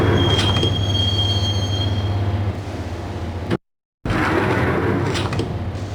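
A subway train in the Max Payne video game rumbles along the track with a loud, sustained wheel squeal and rolling clatter. The sound cuts out abruptly for a moment, then resumes.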